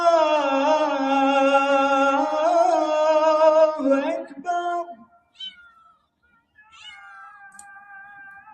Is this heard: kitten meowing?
yes